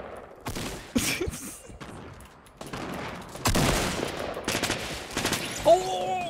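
Gunfire in the Fortnite video game comes in several loud bursts of rapid shots, with gaps between them and a few scattered single cracks, fairly close and mixed with game noise.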